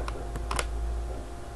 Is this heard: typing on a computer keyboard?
yes